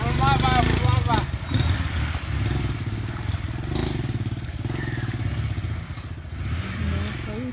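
A Honda motorcycle engine revs hard and then settles into a rough, rapid idle with clattering mechanical noise, loud and close, while a voice talks over the start.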